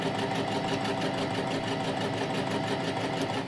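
A sewing machine runs steadily while it stitches fabric for a scrunchie. Its needle drive makes a fast, even whirring chatter, moderately faint, continuous throughout with no pause, and no voice is heard.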